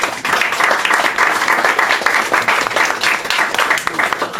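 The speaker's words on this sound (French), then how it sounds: "une bonne main d'applaudissements, s'il vous plaît." Loud, close audience applause for poets at a poetry event, dense clapping from a crowd filling the whole stretch.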